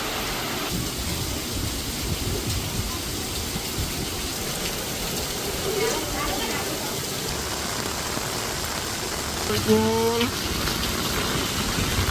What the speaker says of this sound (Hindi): बारिश के चलते सड़कों पर पानी बहता हुआ देखने मिला।